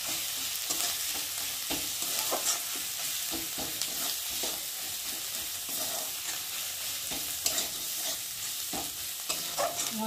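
A turmeric, chili and cumin masala fries in a pan for a Bengali lote fish dish, a soft close sizzle with repeated scraping strokes of a spatula stirring throughout, no talking.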